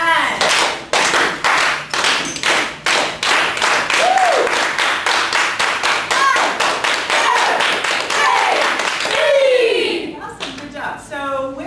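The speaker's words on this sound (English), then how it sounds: "Let's clap it in." A class of students clapping together in unison, a long run of sharp, evenly spaced claps, close and loud, as a teacher's voice and brief exclamations sound over the rhythm near the end.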